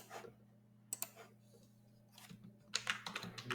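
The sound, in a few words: typing C code on computer keyboard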